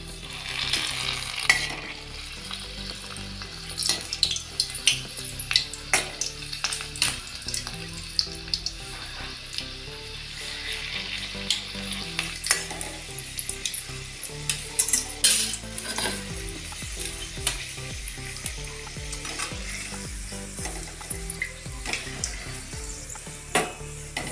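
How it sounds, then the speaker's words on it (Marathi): Okra coated in rice and lentil flour fries in hot oil, a busy crackling sizzle that rises and falls, with frequent clinks of a metal spoon against the pan, close and without speech. "आता आपण तळायला घेऊया। तेल तापलंय, आपण तळून बघूया।"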